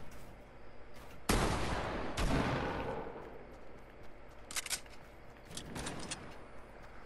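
Enemy gunfire in a multiplayer video game: a few sharp, fairly distant shots and short bursts crack out against quiet background noise, with gaps between them.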